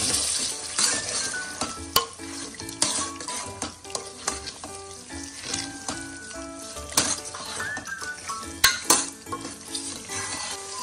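Mutton in masala and oil being stirred in a pan, an ongoing sizzle broken by frequent scraping and clinking of a spoon against the metal, irregular and close.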